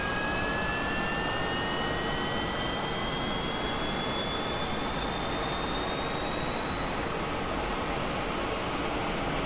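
A MiG-15bis jet engine in DCS World spools up steadily, a loud continuous roar with a rising whine that climbs in pitch throughout, no voices present.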